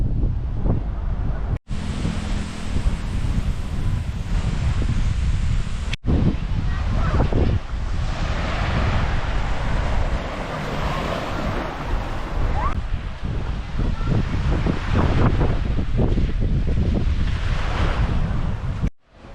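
Ocean waves on a blue-water beach in Lombok, a continuous loud wash of surf with heavy wind buffeting the microphone throughout.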